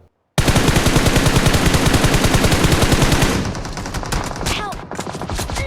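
Rapid automatic gunfire in a battle royale video game (Livik map), a dense close burst that runs for about three seconds, then thins into scattered shots and distant fire.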